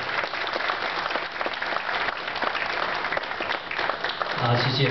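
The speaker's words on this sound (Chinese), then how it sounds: "非常感谢大家热烈的掌声" An audience applauds warmly at an entertainment show on a Yangtze River cruise, sustained dense clapping with a voice starting to speak over it near the end.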